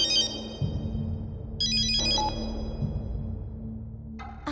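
A mobile phone that was supposed to be on silent rings with a bright electronic ringtone in short repeated bursts over a low background hum, with no speech.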